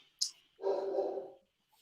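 A dog gives a single short bark or yip, then a longer, louder growly bark lasting about half a second, fairly close, with no talk over it.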